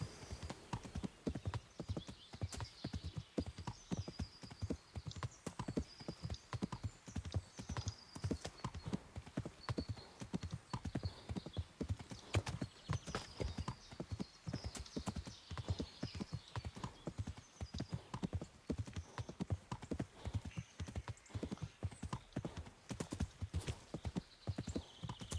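In the video game Kingdom Come: Deliverance, a steady clip-clop of galloping horse hooves runs throughout, with a brief whinny and faint background tones layered over the rhythmic beats.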